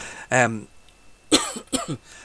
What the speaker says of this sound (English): A little cough there.